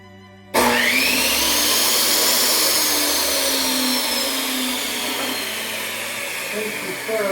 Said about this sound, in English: this will be loud while I do a test cut.